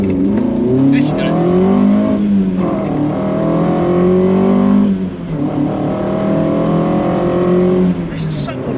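Mk2 Ford Escort van fitted with a swapped C20XE engine, heard from inside while driving: a loud, steady engine drone that climbs and falls through repeated revs, easing off near five seconds before building again, with a voice talking over it.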